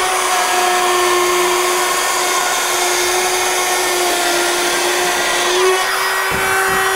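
A power tool cuts drywall, a steady loud whine with a sustained high hum that continues throughout with no talking.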